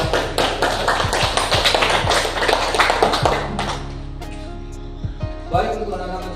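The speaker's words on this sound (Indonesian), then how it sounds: "Berikan aplaus dulu untuk" A classroom audience claps together at the close of a lesson, a dense burst of many hands that runs loud for several seconds, then thins out into a few scattered late claps.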